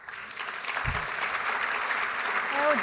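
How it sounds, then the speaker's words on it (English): Sustained audience applause at J Street's National Convention, a dense steady clapping wash from a large crowd filling the whole stretch, with a brief low thump near the start. "So he deserves a big hand."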